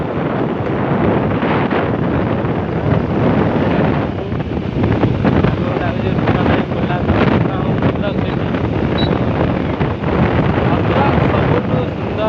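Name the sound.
hot wind blowing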